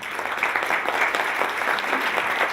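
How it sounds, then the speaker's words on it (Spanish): A crowd claps steadily throughout, a dense, even applause at moderate volume. "Un aplauso."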